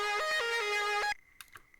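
A bright, buzzy synth lead from a hard trap-style beat made in FL Studio plays a quick stepping melody for about a second, then stops, leaving faint clicks.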